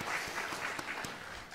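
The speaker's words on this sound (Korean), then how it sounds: "박수 올리겠습니다." Steady applause from a church congregation at a Christmas service, a continuous wash of many hands clapping at moderate volume without pause.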